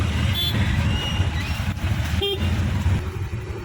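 Busy road traffic on a rainy day near Kalamboli, with a steady rumble of passing vehicles and a couple of short car horn toots standing out, heard from inside a moving vehicle.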